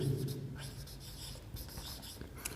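Pen or marker writing out a physics strain formula on a board or paper, a steady scratchy scribble with short strokes and taps running through the whole stretch, close and fairly quiet.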